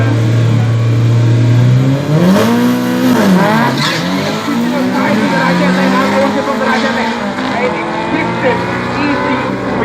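A drag racing car at Killarney in Cape Town accelerates hard down the strip, its engine note climbing through rapid gear changes in a loud, sustained roar, with a commentator talking over it.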